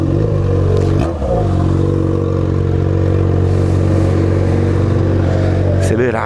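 A Yamaha XJ6 motorcycle engine idles and revs loudly nearby in city traffic at an intersection, a steady droning rumble with a short dip in the middle and a rise at the end.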